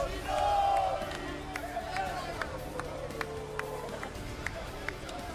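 Live crowd at a Gran Turismo 7 World Series esports racing event in Milan roars and cheers in a sustained swell, with scattered claps and shouts over a steady background murmur, voices mixed in.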